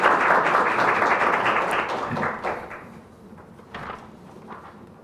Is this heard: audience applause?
yes